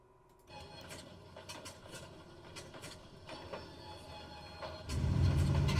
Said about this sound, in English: we have engine start left